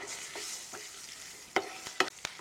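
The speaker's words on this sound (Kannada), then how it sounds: "ಈಗ ಇದಕ್ಕೆ ಒಂದು 3 ರಿಂದ 4 ಹಸಿಮೆಣಸು ಹಾಕ್ತಾ ಇದ್ದೇನೆ, ಉದ್ದದಾಗಿ ಹೆಚ್ಕೊಂಡಿರೋಂಥ ಹಸಿಮೆಣಸು." Slit green chillies drop into hot oil, sizzling with a steady high hiss and several sharp bursts of spattering as a spoon stirs and clinks in the pan, close and fairly loud with no talk.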